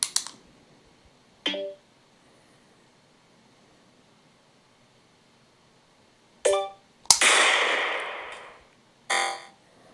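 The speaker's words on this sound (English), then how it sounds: "it's a shot timer" A shot timer used for laser firearm training gives short electronic beeps at scattered intervals, followed by sharp clicks and a burst of hissing noise, with long silent gaps between.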